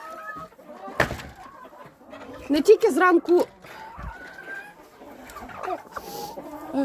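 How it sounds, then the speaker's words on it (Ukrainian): Hens cluck in short bursts close by during morning feeding, a cluster of louder clucks in the middle, while a person speaks briefly over them. "Кури злі, всі злі."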